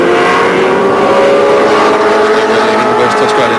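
Touring race cars roar past on the Barbagallo circuit during the 1986 Australian Touring Car Championship round, a loud, dense engine drone that holds steady and close for the whole stretch.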